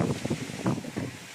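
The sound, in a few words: strong wind after rain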